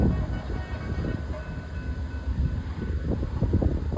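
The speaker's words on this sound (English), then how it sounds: "Here comes the train." A KCS freight train rolls past outdoors, a steady loud low rumble of rail cars with wind, continuous and close throughout.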